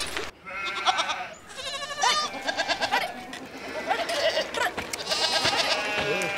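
Flock of sheep bleating repeatedly at close range, overlapping wavering cries in irregular bursts throughout, with faint background voices.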